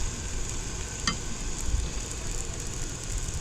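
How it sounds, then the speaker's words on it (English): Cabbage fries in a cast iron pan outdoors, giving off a steady, moderate sizzle with a brief sharp click early on and no talking. "I gotta fry this cabbage"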